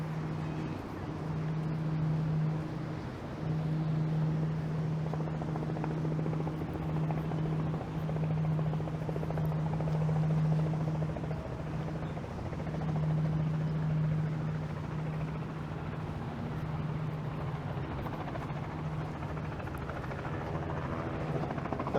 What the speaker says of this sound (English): Those sounds you hear are from the Billy Bishop Island Airport.